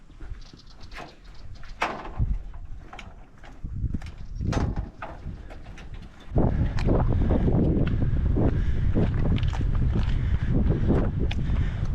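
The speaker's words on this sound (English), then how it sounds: "Yeah, a little bit windy." Gusty wind buffets the microphone on a cold day at the Olgas (Kata Tjuta) walk trail near Uluru, central Australia, rumbling loudly and growing stronger midway, with no talking.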